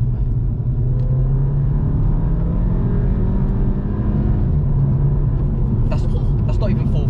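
A Volkswagen Scirocco accelerates hard to overtake on the road, its engine a loud, steady low rumble with rising tone inside the cabin, and voices break in near the end.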